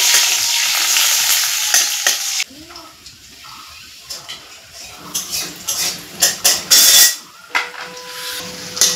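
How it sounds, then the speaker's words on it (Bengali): Onion frying in a pan for a pointed-gourd poppy-seed dish, a loud hissing sizzle for the first couple of seconds, then a quieter crackle broken by sharp stirring scrapes and clatters. "পেঁয়াজটা লাল করে ভাজা হয়ে গেছে"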